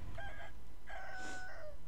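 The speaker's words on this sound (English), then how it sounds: "Why is there another big chicken?" Chicken in Sekiro: Shadows Die Twice giving two drawn-out, tonal squawk-like calls, the second longer and falling, loud and close over a low background hum, with no talk.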